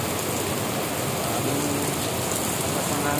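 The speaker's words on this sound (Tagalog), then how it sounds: "4 days na ang ulan dito." Steady heavy rain pours down in a dense, continuous hiss after four days of rain, loud and unbroken throughout with no voices.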